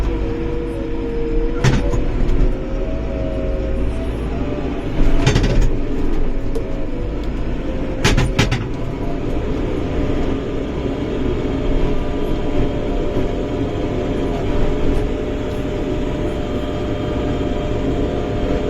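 A JCB excavator engine rumbles loud and continuous at close range, with a steady low drone and occasional sharp metallic clanks as it works.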